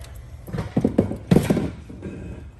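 Bolts going back into a 24v Super Car XXL ride-on toy car during a motor swap give short bursts of close metallic clicking and ratcheting, with pauses between.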